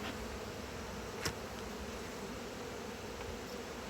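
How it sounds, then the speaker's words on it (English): Honey bees buzz steadily inside a nuc hive during an inspection, a continuous close insect drone with one brief tap partway through. "let's get these bees smoked up right here so we don't crush any between the patty and the frame."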